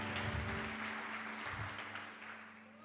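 A church congregation applauds, a moderate wash of clapping with a steady tonal hum underneath, fading slightly toward the end.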